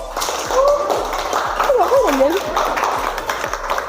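Rhythmic clapping from a group of students in a classroom, steady beats about every half second, near and clear, with talking and chatter layered over the claps.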